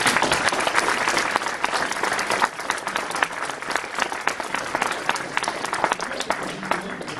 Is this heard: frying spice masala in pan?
no